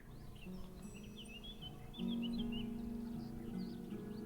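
Bird chirps from the video game Rosewater, a series of short, faint tweets repeating irregularly over a quiet game backdrop with a low tonal music drone, no voices heard.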